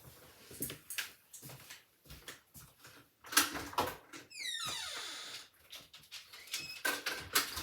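Indoor door being opened to let a dog in, with scattered knocks and clunks, a long sliding scrape in the middle, and light rustling and handling sounds around it, fairly quiet and close.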